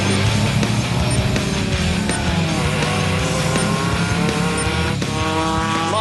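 A race car pushes hard through a fast lap on a track, its engine loud and close, revving up and down through gear changes with rising and falling pitch and brief tire squeal under braking, constant throughout.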